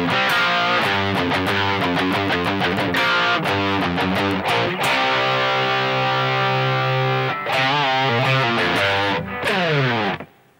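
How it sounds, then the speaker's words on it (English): Main guitar verse riff on heavily distorted electric guitar: quick chromatic picked runs, then a long sustained chord and more fast phrases, loud and solo before stopping. "The main guitar sounds like this."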